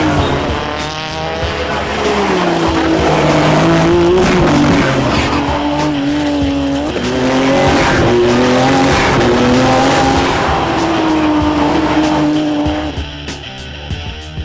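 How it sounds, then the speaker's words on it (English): A Nissan R34 GTR time attack car races hard around a track, its engine howling loud and steady through repeated upshifts and throttle surges, with tyre squeal mixed in and no talking. "GTR is the most radical time attack car in Australia."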